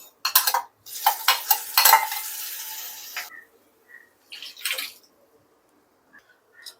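A spoon works through a pot of dal with curry leaves, asafoetida and spices, giving bursts of wet scraping and clinking against the metal that stop and start, then trail off into quiet with a few faint taps.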